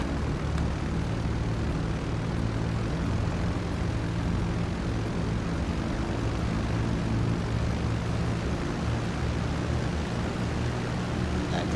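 A propeller cargo plane flies overhead with a loud, steady engine drone and propeller hum that stays constant throughout, without any voices.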